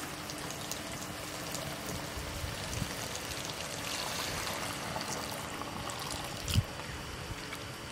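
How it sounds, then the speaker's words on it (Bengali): Hot water poured into a pot of braised duck meat cooked with roasted coconut, ginger, garlic and onion paste; a steady, even rushing pour continues throughout at moderate level, with one soft knock near the end. "হাঁসের মাংসটা আমার কষানো হয়ে গেছে এখন আমি"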